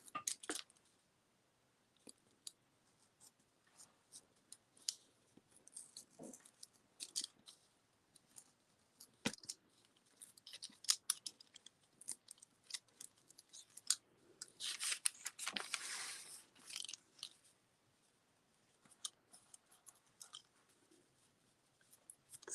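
Scissors trim a paper apple stencil for screen printing, narrowing the stalk. Quiet, close snips and clicks come in scattered bursts with pauses, and there is a denser run of cutting partway through, with no talking.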